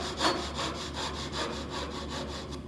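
Hand saw cutting soft tulip wood clamped in a vise, a close, quiet rhythmic rasp of about nine even back-and-forth strokes with no talk.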